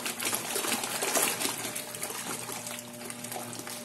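A Colormaq LCT4.5 twin-tub washer runs at full load with the lid closed, a steady loud churning wash of sloshing water and motor hum filling the whole stretch without a break.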